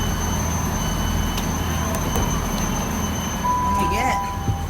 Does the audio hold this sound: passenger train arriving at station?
yes